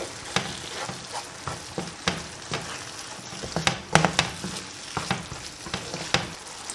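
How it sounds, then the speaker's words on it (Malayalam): Tamarind and green chilli gravy bubbles and sizzles in a pan on the stove, a close, steady crackle broken by frequent soft pops and bursts, with no voices. "സാവധാനം നമുക്ക് ഇത് തിളപ്പിച്ചെടുക്കാം. ഏകദേശം ഒരു 3-4 മിനിറ്റ് ശരിക്കും ഒന്ന് തിളയ്ക്കണം."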